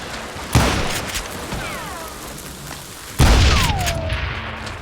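Two loud gunshots from the Western shooter Call of Juarez: Gunslinger, each a sharp boom with a ringing tail, the first near half a second and the second about three seconds in, over a steady bed of game ambience.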